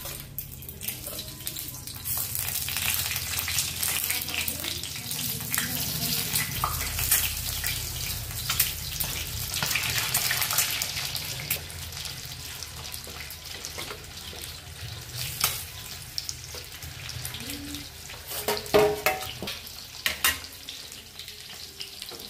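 An egg frying in oil on a griddle pan over low heat, a continuous close hiss and sizzle with small crackles and occasional utensil scrapes, with no voices.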